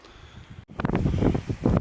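Strong wild wind in the Cairngorms battering the microphone in loud, gusty roaring bursts, with a short sudden drop to near quiet before the buffeting surges back.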